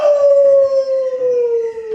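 An actor's voice imitates a wolf howl on stage in a Red Riding Hood theatre production, a single loud, sustained, slowly falling howl close to the listener.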